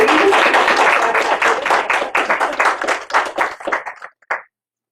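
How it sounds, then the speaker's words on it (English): A church congregation at Valley Community Church in Roanoke applauds Dr. Maurita Wiggins. The dense, lively clapping close by thins into scattered claps and stops after about four and a half seconds. "Shall we give an applause to Maurita?"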